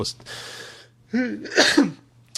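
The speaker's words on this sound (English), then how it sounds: "I had to sneeze." A single loud sneeze, preceded by a sharp breathy inhale and a gasping buildup, close to the listener with no talking.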